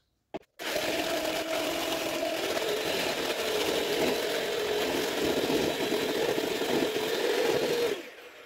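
An electric mixer beats egg yolk and sugar for a chocolate courgette cake, switching on after a click and whirring steadily and evenly close by for about seven seconds before cutting off.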